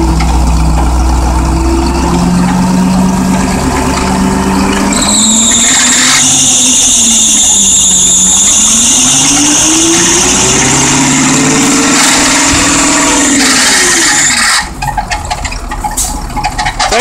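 A yard truck engine runs loud and continuous, revving and straining as throttle is applied, with a rising and falling squeal wavering over the rough idle before it settles near the end.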